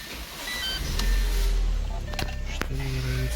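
A cold Audi A4 is started with its bonnet open: a brief whirring crank, then the engine catches with a low rumble, a few sharp clicks and a steady whine running underneath.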